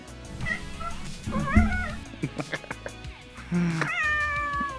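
A cat meows several times nearby, drawn-out wavering cries with a few short clicks between them, fairly loud.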